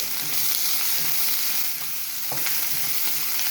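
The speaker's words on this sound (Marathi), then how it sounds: "तर मग आता हे परतायचं व्यवस्थित" Food stir-fried in a pan gives a loud, continuous hiss and crackle, close and steady, with a few soft scrapes of the spatula.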